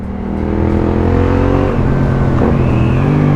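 Yamaha XSR 700 motorcycle engine running steadily, with a low harmonic drone and slowly shifting pitch rising and settling, loud and close throughout.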